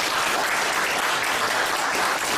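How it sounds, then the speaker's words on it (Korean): A church audience applauds in a continuous, even burst of dense clapping that stays at a steady level for a couple of seconds. "집에서 박수가 한번 나와야"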